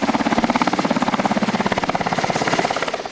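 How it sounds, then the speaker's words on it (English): Military helicopters of the 82nd Airborne fly over flooded New Orleans after Hurricane Katrina, their rotors giving a loud, rapid, steady thumping beat throughout, with no voices. "These helicopters from the 82nd Airborne are still looking for people on roofs and balconies"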